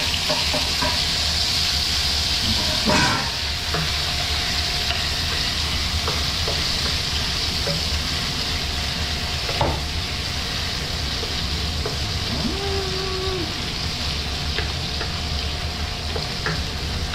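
Garlic fries in a pan with a continuous, fairly loud sizzle and spatter. A few faint knocks and a short tonal squeak come through, with no speech.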